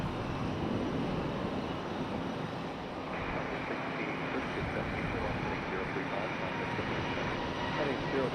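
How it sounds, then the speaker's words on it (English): A Frontier Airbus A321neo jet at Raleigh-Durham International Airport gives off a steady, moderately distant roar that holds through the whole stretch, its tone shifting slightly partway through. "Frontier up next. This A321."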